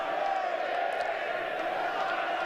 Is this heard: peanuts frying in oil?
no